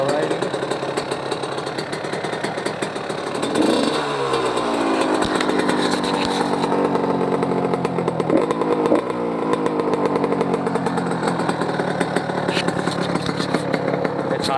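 A rebuilt Yamaha YZ125 dirt bike engine runs right after its first start, buzzing loudly and continuously up close while the revs rise and fall.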